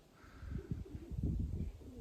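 A grey homing pigeon coos softly nearby, low throaty pulses repeating in a loose rhythm over a quiet outdoor background.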